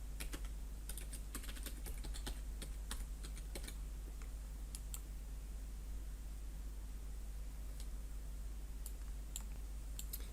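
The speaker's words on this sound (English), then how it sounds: "I'm going to go ahead and type in my password and click OK" Password being typed on a computer keyboard: fast, uneven bursts of close key clicks, denser early then sparser, over a steady low hum and background hiss, with no talking.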